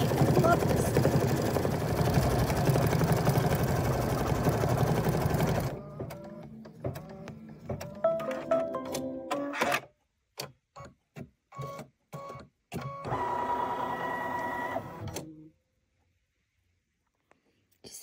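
A Brother Luminaire sewing machine quilting a block whirs rapidly in long steady runs, then stitches in short stop-start bursts, with a person talking between stretches of stitching.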